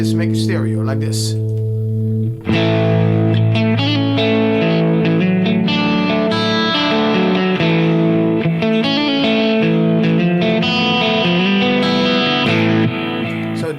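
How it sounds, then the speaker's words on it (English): Distorted electric guitar chords through a stereo enhancer effect ring out after a brief quieter start, then continue loud and full with a wide, spacious shimmer and a touch of echo. "Enhancer makes the sound stereo,"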